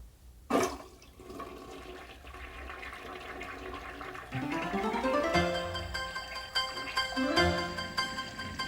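A household toilet flushes up close, opening with a sharp burst of rushing water, then a sustained swirling drain that swells and gurgles as the tank refills, with no talking.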